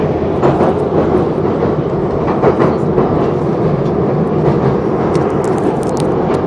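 A metro train riding along the tracks, a loud steady rumble with rhythmic clacking and rattling throughout, no voices heard.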